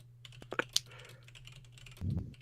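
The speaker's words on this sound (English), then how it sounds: "My typing is terrible." Keyboard typing in a Panic Restaurant race stream: a quick burst of sharp, close keystrokes with a few louder clicks, then a low thump and rustle near the end. No talking.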